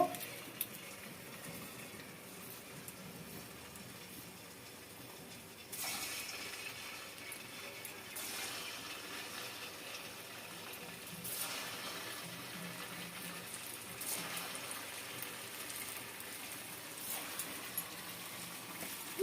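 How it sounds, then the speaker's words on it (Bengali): Paneer chhana koftas dropped one by one into hot oil for a vegetarian kofta curry, giving a faint, steady sizzle that swells with soft bursts of bubbling as each ball goes in. "আমার তেলটা গরম হয়ে গেছে আমি এবার একটা একটা করে ছেড়ে দেবো"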